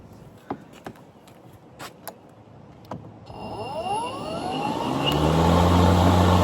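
A SKIL PWR Core 40 battery lawn mower starts with a few clicks, then its electric motor whines up and spins to a loud steady hum that swells as it reaches full speed, close by.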